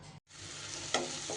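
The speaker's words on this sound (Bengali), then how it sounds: "এদিকে পেঁয়াজটাও কিন্তু বেশ লাল লাল করে ভাজা আমার হয়ে গেছে।" Chopped onions fry in a pan of oil until reddish-brown for an egg curry, giving a steady close sizzle with stirring scrapes, a brief gap near the start and a louder stir burst toward the end.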